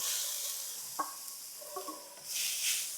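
Finely shredded ridge gourd fibres roast in a little oil on a hot tawa, a steady close sizzle with a few light scraping stirs and a brief louder crackle near the end, no voices.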